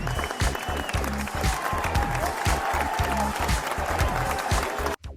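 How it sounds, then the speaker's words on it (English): Sustained applause from an audience, a dense steady wash of clapping that holds for about five seconds and then cuts off abruptly. "Let's give a round of applause for Uncle Biden"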